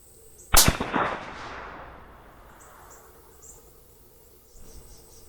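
.308 rifle fired during hunting ammunition testing: one loud, close shot with a sharp crack that rolls into a long fading echo over several seconds, against faint outdoor insect chirping.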